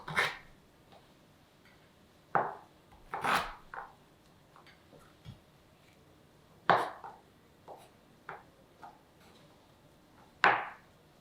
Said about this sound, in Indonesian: Ini juga serainya juga ini ya, diiris halus.